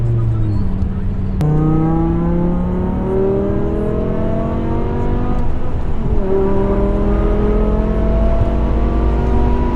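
A 562bhp BMW E63 M6 with its V10 engine pulls hard on the road, loud and close, revs climbing in a long rising sweep, a quick gear change, then climbing again.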